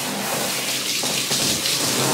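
Running water pours steadily over hair as pink dye is rinsed out, a continuous splashing hiss with small shifts in the flow partway through and nobody speaking.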